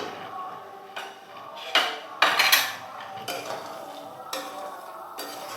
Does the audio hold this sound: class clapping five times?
no